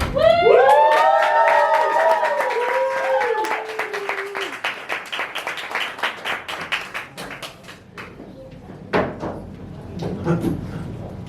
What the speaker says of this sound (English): Give a big round of applause for Little Lee.